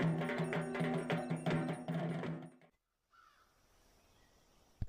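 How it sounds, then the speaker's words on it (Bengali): Crows caw in a rapid run of harsh, fairly close calls for a couple of seconds, then the call cuts off into near silence with faint background hiss. "পাখির ডাক শোনা যাচ্ছে"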